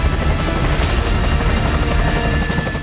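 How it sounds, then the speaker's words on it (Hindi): Firefighting helicopters dropping water over the burning Palisades hills in the Los Angeles wildfires, a steady loud rotor roar that holds throughout with no talk. "आसमान से लगातार हेलीकॉप्टर्स पानी की बरसात कर रहे हैं।"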